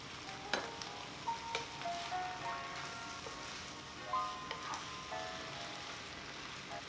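Thai drunken noodles frying in a hot pan make a steady, dense sizzle, with occasional clinks and stirs of a utensil rising briefly above the crackle.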